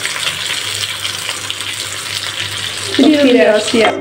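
Nigella and radhuni seeds hit hot oil left from frying hilsa fish, giving a steady loud sizzle and crackle, with a sharper burst of spattering near the end. No one talks.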